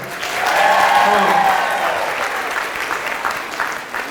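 A classroom group of teachers bursts into applause, a dense wash of many hands clapping that swells early and then thins out gradually, with faint voices mixed in underneath.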